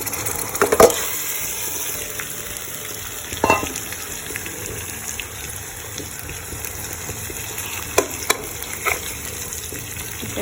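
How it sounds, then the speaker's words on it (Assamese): Chicken frying in a pan with onion, ginger, garlic and home-ground spice powder, cooked dry without water; a steady crackling sizzle runs throughout, broken by a few louder stirring clatters, with no voices. "এতিয়া মই এইখিনি পূৰা ভালকৈ ভাজি ল'ম"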